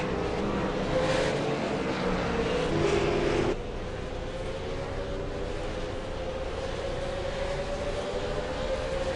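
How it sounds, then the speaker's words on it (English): V8 Supercar race cars at Okayama circuit roaring past, engine tones sweeping and shifting as cars pass one after another, then a steadier distant drone of engines. "Cars come steaming through."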